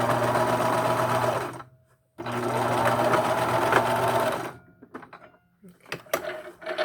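A sewing machine stitches a medical face mask in two steady, loud, close whirring runs with a brief pause between, then stops, leaving quieter handling clicks and fabric rustles.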